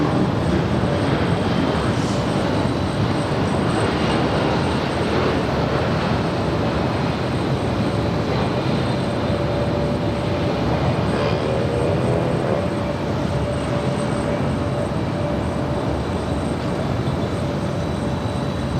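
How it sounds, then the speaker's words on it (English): A Delta Boeing 767-300ER airliner arriving at LAX from Atlanta, a loud, constant roar with a faint thin whine running through it, steady from start to finish and not joined by any talking. "This is Delta 516 Heavy coming in from Atlanta."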